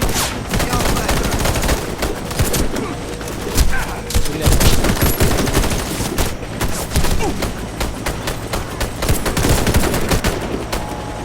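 Gunfire rattles nonstop in a Warface PvE mission: dense bursts of automatic shots and sharp single cracks crowd together, loud and close, for over ten seconds.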